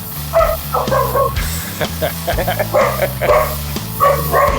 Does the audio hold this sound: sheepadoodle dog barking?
yes